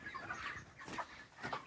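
Chickens clucking in a poultry farm shed, several birds calling in short bursts at close to moderate range, with no one speaking over them.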